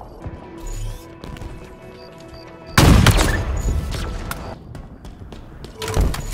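Halo Infinite sniper rifle fire crashes in with one heavy boom midway, followed by rumbling game effects and a second sharper burst near the end, amid softer in-game clicks and movement.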